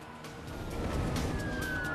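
Emergency vehicles race to their positions on an airport runway as an airliner heads in for a crash landing. A faint siren wail rises over low engine and road rumble, growing slightly louder toward the end with no voices.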